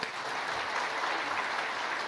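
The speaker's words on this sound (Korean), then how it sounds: "하나님께 감사의 박수 한번 하십시다." A church congregation applauds together in a dense, even clapping that fills the room for about two seconds without pause.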